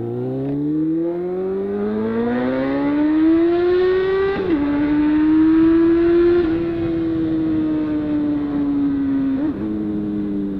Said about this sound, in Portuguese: Não tá vendo a ambulância, ainda passa devagar